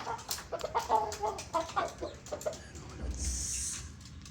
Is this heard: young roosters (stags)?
yes